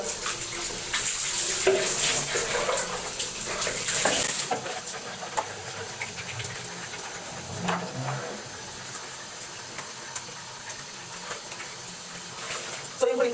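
Water running steadily from a tap during bathing, a continuous close splashing rush that grows quieter partway through, with a person talking over it at times.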